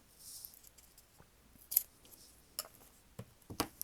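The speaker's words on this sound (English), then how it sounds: "I'm going to cut this just an ooch" Scissors snip through paper in a journal, a few quiet, scattered cuts at first, then a sharper cluster of crisp snips near the end, close by and alone with no talk.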